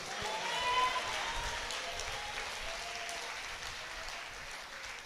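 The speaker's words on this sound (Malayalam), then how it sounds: "കൈയടിച്ച് കർത്താവിന് സ്തുതി കൊടുത്തേ" A church congregation claps in praise during a worship service, a steady broad wash of many hands that swells early and then holds evenly, with a faint murmur of voices underneath.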